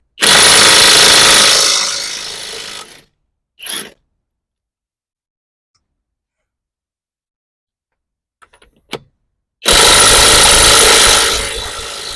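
Kamolee 520 Nm impact wrench removing car lug nuts: two loud bursts of rattling hammering about three seconds each, separated by a long quiet stretch with a couple of brief clicks.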